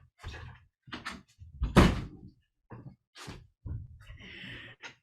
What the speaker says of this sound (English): I'm going to close the door because I can hear noise